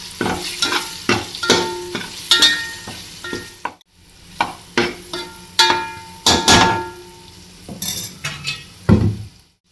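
A vegetable curry with ground masala stirred and sautéed in a pan: repeated scraping spoon strokes against the metal over a steady sizzle, close and loud, with a brief pause midway and no talking.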